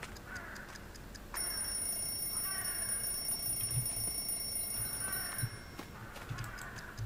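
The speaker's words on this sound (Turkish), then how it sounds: "Evet saati çalıştırdım şu an." An alarm clock in a game rings with a steady, bright, high-pitched tone that starts after about a second and stops near the end, over soft background clatter.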